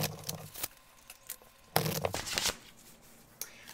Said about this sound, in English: I'm going to shuffle them 3 times.